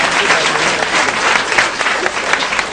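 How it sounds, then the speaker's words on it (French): Audience at a youth pastoral gathering applauding a president, a steady dense clapping from a crowd filling the whole moment, with faint voices mixed in. "On acclame la présidente, s'il vous plaît"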